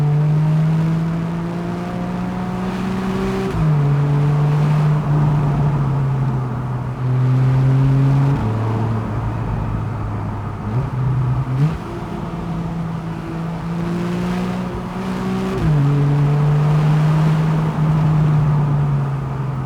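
Porsche 911 of the 991.1 generation, a naturally aspirated Carrera 4S, pulling steadily while on the move, its engine note climbing through the gears with several clear shift drops, loud and continuous with no talk.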